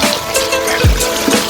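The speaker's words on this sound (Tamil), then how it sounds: "அடுத்து நம்ம அரிசியில இருந்து அளந்து வச்ச 2 மடங்கு தண்ணியை ஊத்திக்கிறோம்" Water is poured into a pot of rice while cooking Arabian chicken madhbi, a brief low gurgling splash rising near the middle against a steady background hiss, with no talk.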